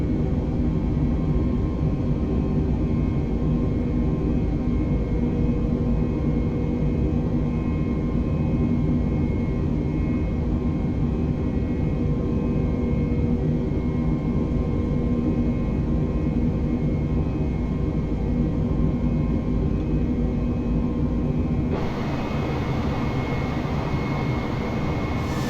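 Airliner jet engines at climb thrust in Microsoft Flight Simulator 2020, a steady loud rumbling roar with a constant whine, unchanging for most of the stretch before the tone shifts slightly near the end.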